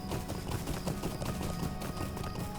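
A horse mount in the LOTRO online game, moving through a sandy mirage setting, with a quick, continuous clip-clop of hooves close by, rhythmic and steady under a layer of game ambience.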